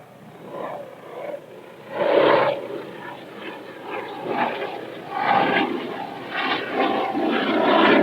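A low, roaring engine drone rumbles steadily throughout, swelling louder at moments as an aircraft passes close overhead.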